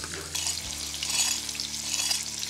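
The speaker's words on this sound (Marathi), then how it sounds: "तर डोकं फ्राय करूया थोडंसं" Fish sizzling steadily as it fries in a pan, a continuous bright crackle with a brief stir midway, close and moderately loud, no voices.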